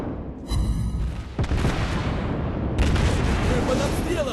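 Naval guns fire and shells hit in World of Warships Blitz, a ship combat video game. Heavy booming blasts and rumbling impacts overlap, loud and continuous, with a fresh burst near the end.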